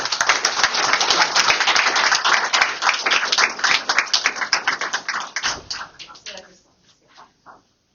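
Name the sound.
audience applause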